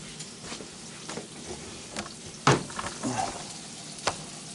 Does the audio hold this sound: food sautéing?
yes